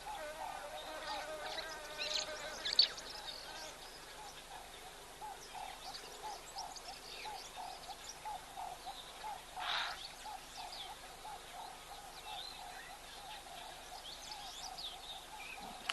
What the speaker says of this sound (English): I think this little bird that's come down here might be a little female cutthroat finch.